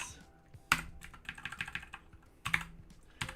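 Computer keyboard typing in bursts of sharp key clicks, with two louder key strikes standing out against softer irregular tapping, close and alone.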